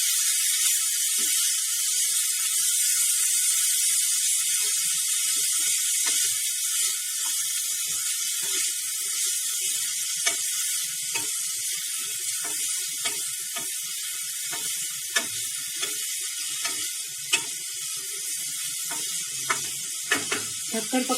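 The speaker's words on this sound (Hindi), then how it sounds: "सूखा धनिया भी डाल दूंगी मैं 1 चम्मच जितना। मिक्स कर देंगे इसको।" Radish curry with dry coriander and spices being stirred in a pan, a steady soft sizzle with frequent scraping clicks of the spoon, close and continuous throughout, with no voice present.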